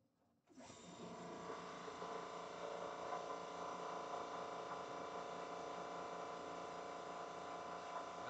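A Fortress air compressor starts up about half a second in and runs steadily to the end, a loud, even mechanical drone with a constant motor whine and hum, no talk over it.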